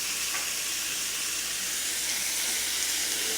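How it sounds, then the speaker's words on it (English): Broccoli rabe sautés in a hot pan, a close, steady sizzle and hiss of frying with no talking. "I am gonna saute the broccoli rabe a little bit"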